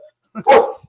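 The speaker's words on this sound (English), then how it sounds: "I'm really sorry about the dog. He's just decided to bark." A dog barks indoors during a home recording, giving a single loud, close bark after a short quiet gap, with a faint softer sound just before it.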